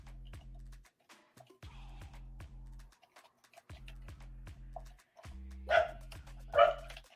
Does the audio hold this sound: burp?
no